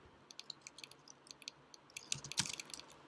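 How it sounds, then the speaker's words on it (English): Manual typing on a computer keyboard at a technical workshop session, a soft, irregular patter of close keystrokes that grows busier and denser toward the end, with no talk over it. "I'm just typing this manually."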